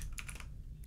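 A short burst of typing on a computer keyboard, a few quick close clicks in fast succession, heard alone without talk.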